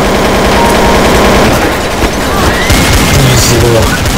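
Rapid gunfire from the video game Counter-Strike: Source, loud bursts and shots with booming impacts packed densely throughout, while players talk over the action.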